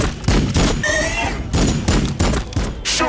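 Gunfire crackles in the Warhammer 40k Battlesector strategy game, several loud bursts of shots in quick succession, thudding heavily and overlapping one another without pause.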